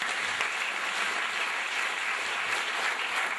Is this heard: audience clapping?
yes